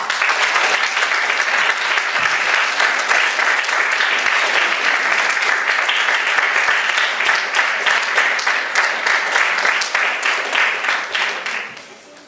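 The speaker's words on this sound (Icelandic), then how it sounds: "Gefið honum gott klapp." A studio audience at an Icelandic comedy show applauds loudly and steadily, dense clapping filling the space for about eleven seconds before tapering off quickly at the end.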